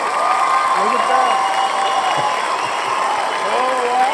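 Crowd applause mixed with cheering, whoops and raised voices forms a continuous, loud roar that holds steady for about four seconds, with a few tonal shouts rising above it.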